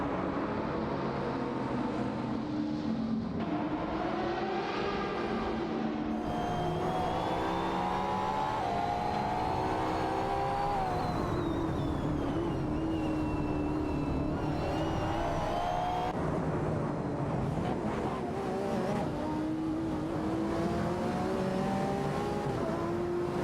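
Simulated race cars, a Lamborghini Huracan and a Koenigsegg Agera RS among others, drone and whine continuously in a video game race, engine pitch rising and falling as they accelerate and pass, with no talk over it.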